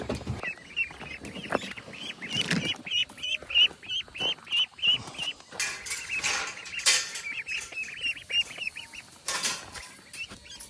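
Young ducklings peep steadily in a brooder room, a dense run of repeated high chirps close by, with occasional louder calls and light shuffling noises.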